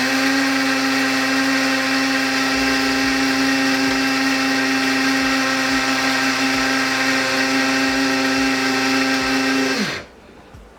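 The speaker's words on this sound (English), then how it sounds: "Grind it to a fine powder." An electric grinder whirs steadily and loudly while grinding whole biryani masala spices into fine powder, a constant high motor drone that winds down and stops near the end, with no talk.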